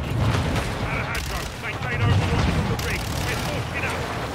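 Grenade blast and gunfire in a shooter video game, a dense, loud barrage of booms and shots filling the whole stretch with steady rumble, with a voice talking over it.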